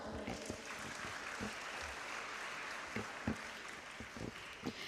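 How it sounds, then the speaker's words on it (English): An audience at a ceremony claps in a steady round of applause, the dense patter mixed with a few sharper, closer claps and faint background voices. "I request everyone to give a warm round of applause."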